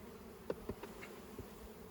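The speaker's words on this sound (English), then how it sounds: "whenever the bees are prone to robbing like this" Honey bees robbing around a hive buzz in a dense, steady drone, with a few louder passes of individual bees flying close to the microphone.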